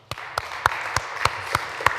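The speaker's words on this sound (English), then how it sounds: "I think we should give him a round of applause and start." A conference audience claps for a speaker. Seven sharp, evenly spaced claps sound over a steady wash of crowd applause in a large room.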